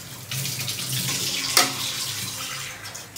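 Water pouring and splashing into a cooking pot as it is mixed with jowar (sorghum) flour for a village-style chicken curry, a steady close rush with one brief louder splash midway.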